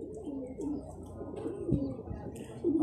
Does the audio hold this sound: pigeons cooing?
yes